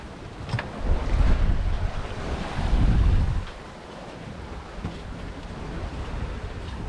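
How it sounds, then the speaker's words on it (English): Wind and waves at sea aboard a sailboat on an Atlantic crossing, a steady broadband rush with louder surging swells in the first half that ease into a continuous windy wash. "The wind's come back nicely."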